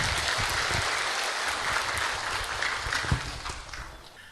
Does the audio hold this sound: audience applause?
yes